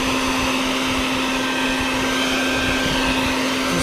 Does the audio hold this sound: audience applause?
no